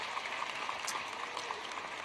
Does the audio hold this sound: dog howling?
no